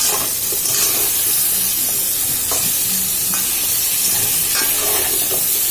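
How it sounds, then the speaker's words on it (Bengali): Loud, constant sizzling of pumpkin, potato and chickpeas frying in hot oil, with scraping and stirring sounds of a utensil in the pan now and then. "এটাকে ভালো করে ভেজে নিতে হবে লাল লাল করে"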